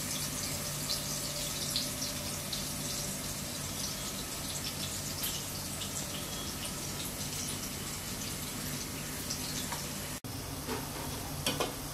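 Onions for Memon-style haleem sizzle and fry steadily in a pan, a dense continuous hiss with faint clinks of stirring, near and alone with no voices.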